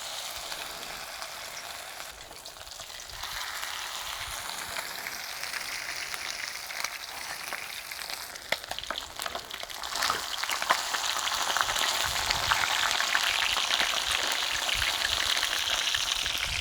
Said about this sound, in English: Let's get this thing frying.